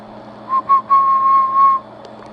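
A person whistles a steady tune near a Johnson 500 ham radio transmitter: a few short notes, then one long sustained tone, alone over a low constant hum.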